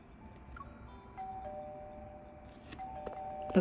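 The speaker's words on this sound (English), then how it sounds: "the doorbell rings at just the right moment" A doorbell chimes in the video game Love and Deepspace, a few soft tonal dings over quiet background music, moderately faint and without speech.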